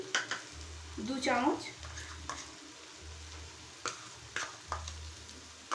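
Cabbage and chicken being stirred in a pan over a medium flame after garam masala and ghee go in, a soft sizzle with scraping strokes and light spoon clinks, a voice speaking briefly over the cooking.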